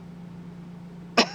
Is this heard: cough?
yes